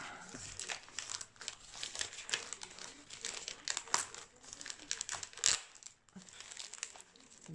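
Crinkly plastic packaging of a diamond painting kit being unwrapped up close, a quiet run of crackling rustles and crumples with a couple of sharper snaps.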